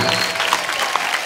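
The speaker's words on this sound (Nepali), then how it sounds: "एकचोटि उहाँको लागि जोरदार ताली दिउँ त" Applause for a sports coach from a comedy-club audience, a dense steady patter of many hands filling the short moment at fairly loud level, with no voices over it.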